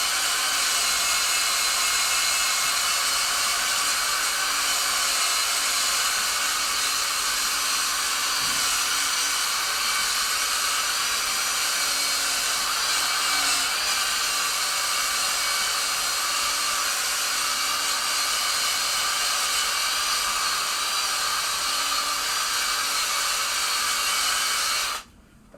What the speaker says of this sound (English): think I am done with machine polishing this